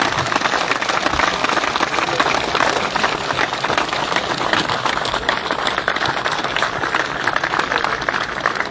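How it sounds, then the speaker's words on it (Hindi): Applause from an audience at a political rally in Rajgarh, a dense steady patter of many hands clapping continuously throughout, fairly loud and close. "इस ओर से उस छोर तक ताली बजनी चाहिए"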